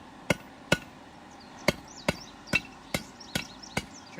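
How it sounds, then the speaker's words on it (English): Sharp metallic hammer taps on hot iron ring out in a steady, unhurried rhythm, about ten strikes, close and fairly faint in a quiet space. "then using my hammer, I'm just going to give it"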